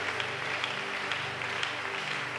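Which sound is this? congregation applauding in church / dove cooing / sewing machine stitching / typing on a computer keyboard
congregation applauding in church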